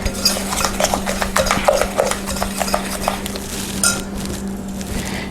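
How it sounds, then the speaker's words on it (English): An antique-style hand-cranked egg beater whips brownie batter in a bowl, giving a steady run of quick, close clicking and rattling strokes that ease off near the end. "This is a beater. It's actually one that, like my grandmother had, made after an antique egg beater, which helps to mix that very well."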